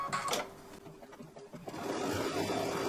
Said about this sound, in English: And then you're going to sew down the tack down line for the top part of the stocking.